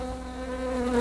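Honeybees buzzing around a hive during beekeeping work, a close, steady droning hum with clear harmonic tone that swells slightly as bees pass near.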